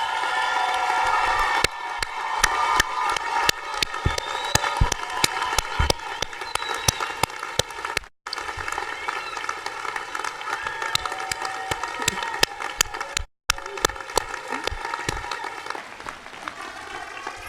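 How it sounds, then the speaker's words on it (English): A college commencement audience claps and cheers for the graduating class, a long spell of crowd applause with steady music tones sounding beneath it and a couple of brief dropouts. "Would the class of 2018 stand and turn and face guests for one last round of applause from the audience?"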